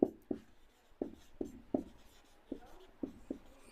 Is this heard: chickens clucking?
no